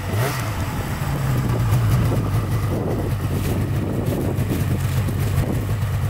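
A snowmobile engine rumbles close by, rising in a rev near the start, then holding a rough, steady idle through blustery wind noise, with no one talking.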